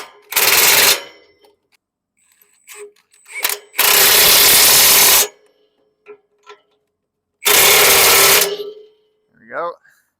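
A power drill with a 15/16 socket drives bolts home on easy-entry cab steps being installed on a John Deere 30/40/50/55 series tractor. There are three loud, close bursts of whirring, each lasting about a second, with small clanks between them.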